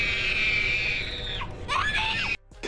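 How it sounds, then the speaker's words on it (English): A young girl lets out a long, shrill scream in a horror film scene from Rob Zombie's Halloween, sustained and loud for over two seconds before cutting off abruptly. "Side note, this little girl's scream is epic."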